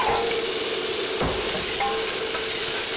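Two small minced onions hit garlic in hot olive oil, giving a close, steady sizzle with a brief clatter partway through.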